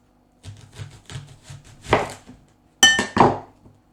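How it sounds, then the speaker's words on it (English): Onions are sliced into big pieces with a knife on a cutting board, a series of crisp, close chops arriving in an uneven rhythm with short pauses between them, ending in a couple of sharper, heavier knocks. "Onions, try to cut them into bigger pieces, bigger slices."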